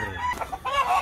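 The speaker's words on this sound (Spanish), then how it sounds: "Ay, tiene una gallina fina" A hen at a gamecock event clucks a few short, nasal notes close by in quick succession.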